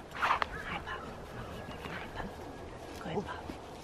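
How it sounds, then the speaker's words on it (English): Dogs on an alpaca farm give a few short barks and yips, fairly near, mixed with a person talking over them. "This would be the alpaca farm dogs."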